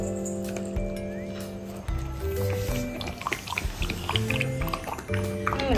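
Koko the dog lapping up coconut water, a run of quick wet tongue slaps and sloshing in a bowl, close and fairly busy, after a stretch of quieter background at the start.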